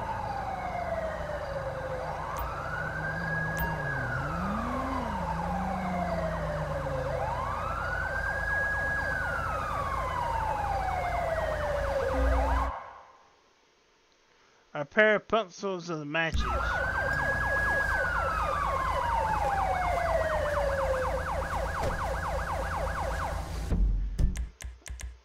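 Ambulance siren in Grand Theft Auto 5, a loud wailing tone sweeping up and down over a steady engine drone, cutting out briefly before returning with a rapid yelp pattern, with a voice speaking quietly.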